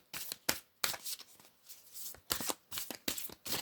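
Tarot cards being shuffled up close in a quiet room, a series of crisp papery riffles and slaps in uneven bursts with short pauses between them.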